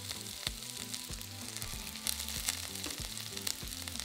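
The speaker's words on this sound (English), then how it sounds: "Then fry, stirring often, for 5 minutes until the onion's softened and lightly browned." Diced onion, minced garlic and ginger frying in a pan for a slow-cooked lamb bhuna: a continuous, fairly quiet sizzle with regular crackles and light stirring scrapes throughout, no voices.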